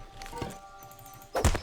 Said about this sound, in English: Can I chop acorn?